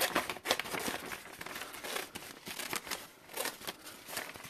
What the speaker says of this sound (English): Get out a pair of scissors here